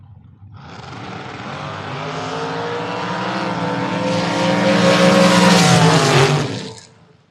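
Dragster race cars on a drag strip, one a Diamond-chassis 512 and another an S&H chassis, thunder past in a loud, sustained engine roar that swells to a peak and then cuts off abruptly.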